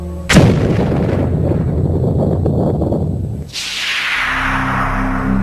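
A sudden, sharp blast erupts and rumbles on, followed by a hissing whoosh that trails away into a low roar.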